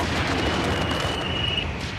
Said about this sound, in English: Pilot Brian Binney fired the rocket